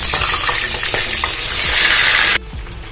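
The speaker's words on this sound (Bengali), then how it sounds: "তার জন্য আমি মুরগির পিসগুলোকে ভেজে নিচ্ছি" Chicken pieces for an Eid roast fry in hot oil, giving a loud, dense sizzle with stirring scrapes and clacks that suddenly falls to a softer bubbling near the end.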